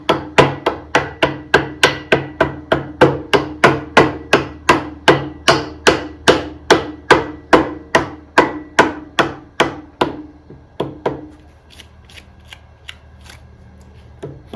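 A hammer taps a tight sleeve onto the shaft of a 1968 Wheelhorse Raider: about two dozen sharp, evenly spaced metallic knocks, close and crisp, which then stop into near silence.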